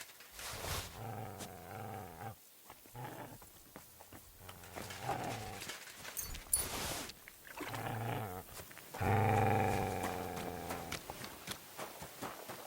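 A dog in Kingdom Come: Deliverance 2 growls and snarls in rough, repeated bursts, close and fairly loud, with a few brief pauses between outbursts.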